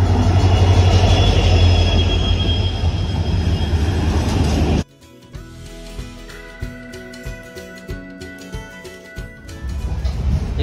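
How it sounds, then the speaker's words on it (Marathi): The Sawantwadi–Diva Express pulls into platform 1 at a Konkan Railway station, a loud roaring rumble of rolling wagons that cuts off abruptly, followed by quieter rhythmic wheel clacks and squealing brakes. "ट्रेन आलेली आहे."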